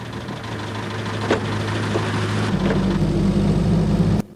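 An early Land Rover Series 1 engine runs steadily in second gear low ratio, a close, loud low rumble that deepens and grows heavier halfway through before cutting off abruptly.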